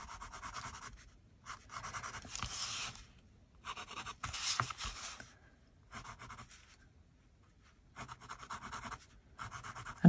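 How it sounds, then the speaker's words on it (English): Pencil scratching across a Christmas card in several short bursts of drawing strokes, close and fairly quiet, separated by brief pauses. "I'm just going to draw this in pencil as well, just in case I'm not happy with it."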